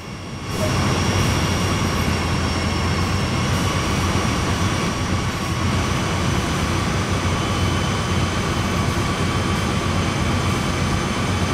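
Exterior of a freight train on the Sand Patch Grade in the Train Sim World 2 video game, a loud steady engine drone with sustained tonal hum that starts abruptly and holds level throughout.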